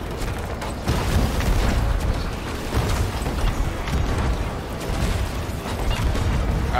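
Ship cannons in the video game Sea of Thieves fire repeated booming blasts and bursts in quick irregular succession, loud and dense, with clattering mechanical noise between the shots.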